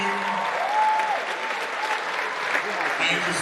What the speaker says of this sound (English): Put your hands together, ladies and gentlemen. Keep clapping, keep clapping, keep clapping,